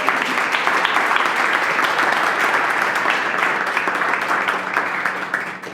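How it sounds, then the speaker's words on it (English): Sustained crowd applause at a brewing company gathering, a dense wash of many hands clapping at moderate distance that holds steady and begins to fade at the very end. "So give yourselves a big round of applause as well."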